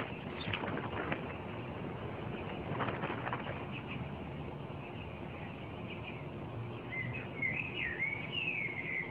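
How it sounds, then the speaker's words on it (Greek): A sparrow gives a few short, sharp chirps at the start and then a thin twittering call near the end, faint against a quiet, hissy room background. "Ένα σπουργίτη είναι, πατέρα. Ένα σπουργίτη."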